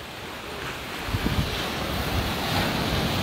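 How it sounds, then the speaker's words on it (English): Ocean waves wash onto the shore on a morning seaside walk. A steady broadband roar carries wind buffeting the microphone and a few soft low surges, with no talking. "I just can't get enough of this ocean this morning"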